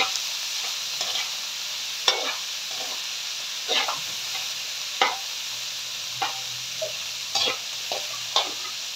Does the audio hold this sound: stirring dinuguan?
yes